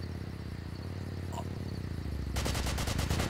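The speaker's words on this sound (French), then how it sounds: "Qui c'est qui me tire dessus comme ça là?" In the shooter game Far Cry, a rapid burst of automatic gunfire starts suddenly after a stretch of quieter background game ambience and rattles on evenly to the end, fairly close and loud.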